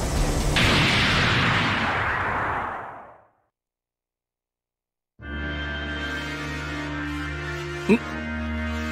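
An explosion in the video game Saint Seiya Soldiers' Soul roars loudly and broadly, then fades away over about three seconds. After a silent gap, sustained tonal game music begins with a brief sharp accent.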